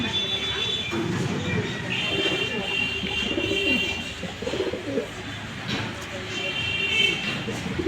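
Racing pigeons in a loft at Suruj Road, Tangail, coo softly amid a busy, noisy room, with faint low rumbling under the birds.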